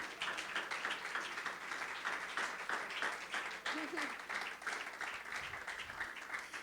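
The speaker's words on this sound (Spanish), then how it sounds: "denle un aplauso al Señor" A church congregation claps for the Lord during a Spanish-language service, a soft, steady patter of hands with voices rising over it and a brief shout near the middle.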